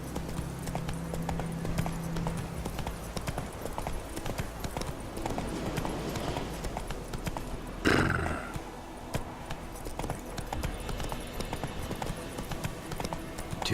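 Roach, a horse in The Witcher 3, gallops with steady clip-clopping hoofbeats throughout, and a brief whinny-like burst arrives near the middle over game ambience.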